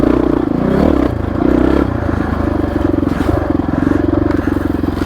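Honda XR650R dirt bike engine running steadily while riding an open trail, a close, continuous thumping drone with slight surges in throttle and some clatter underneath.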